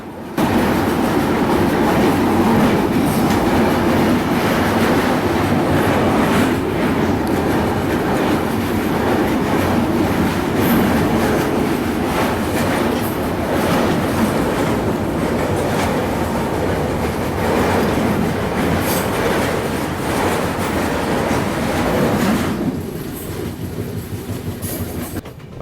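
A passenger train runs over the Sutlej river bridge after leaving Ludhiana, with a loud continuous rumble and rhythmic clatter of wheels on track that drops away abruptly near the end.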